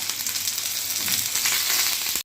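Garlic frying in hot coconut oil with mustard seeds, dried red chilies and curry leaves, giving a loud, continuous close-up sizzle that cuts off abruptly at the end.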